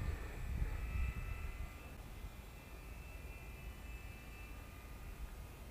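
A twin-engine RC Lidl glider flying at half throttle, a faint distant propeller drone with a steady whine, slightly louder at the start, no talking.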